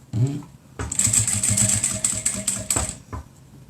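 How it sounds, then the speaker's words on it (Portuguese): Sewing machine stitching a cloth face mask, a fast close mechanical whirring rattle that runs for about two seconds after a brief knock, then slows and stops. "E vamos costurar até aqui e o próximo e os 4 cantinhos."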